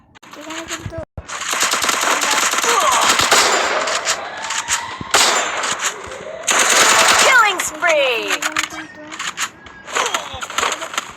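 Rapid automatic gunfire and single shots from a video game shooter, loud and dense bursts filling most of the stretch with brief pauses, with game sound effects mixed in and a voice speaking over parts.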